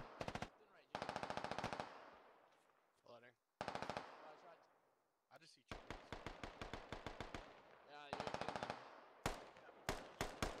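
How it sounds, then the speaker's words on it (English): Bursts of British rifle fire in the military shooter Squad, sharp close cracks in rapid strings and single shots repeating throughout, with brief quiet gaps between volleys. "I love the sound of the British rifles."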